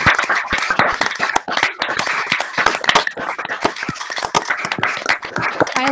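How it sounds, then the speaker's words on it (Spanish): An audience at a lecture on Moroccan cities under the protectorate breaks into applause, a dense, lively patter of many hands clapping steadily for several seconds with no talk over it. "vamos a dar un enorme aplauso a nuestro conferenciante que se lo merece"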